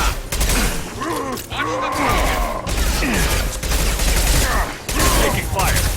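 Gunfire in the video game Mass Effect 2, a dense, continuous fusillade of shots and impacts mixed with game effects, loud throughout, with voices speaking over the combat.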